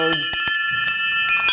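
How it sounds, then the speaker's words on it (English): Old wagon team bells ringing in repeated shaken bursts, bright metallic jingles with sustained ringing tones, close and loud, with a voice talking between them. "here's their team bells"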